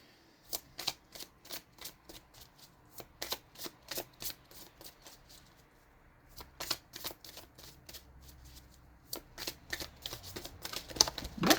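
Oracle cards being shuffled by hand, a quick run of crisp riffling flutters and soft taps in repeated bursts, close and quiet in an otherwise still room.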